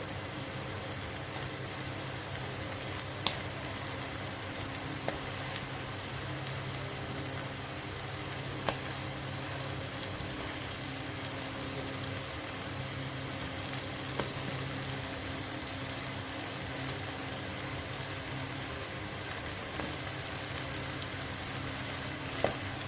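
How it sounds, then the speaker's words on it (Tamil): Cut pumpkin pieces fry and get stirred in a pan for a curry, giving a steady, continuous sizzle with occasional sharp clicks of the spoon against the pan throughout. "கட் பண்ணி வச்சுருக்க பூசணிக்காய் எல்லாத்தையும் போட்டாச்சு. இதை நல்லா வந்து கிளறி விட்டுக்கலாம்."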